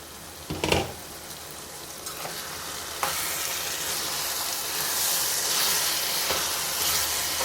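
A spoon scrapes and stirs through a thick bloated beans and tomato curry in a pan, with a few knocks early on, then a steady sizzle and bubbling hiss continues.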